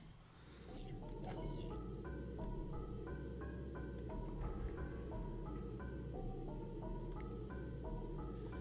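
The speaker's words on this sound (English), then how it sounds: "That's the sound of a vampire." In modded Minecraft, a vampire gives off a repeating chime-like melody, a series of bright stepped tones rising and falling in an ice-cream-truck jingle pattern over a dense game background, with speech mixed in.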